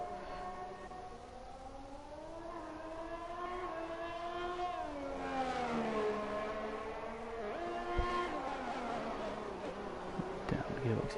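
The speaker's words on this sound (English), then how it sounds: "Down the gearbox he comes to the final corner." A Ferrari Formula 1 car in an F1 video game, a high engine whine sweeping up and then dropping sharply through downshifts into a corner, over continuous background noise.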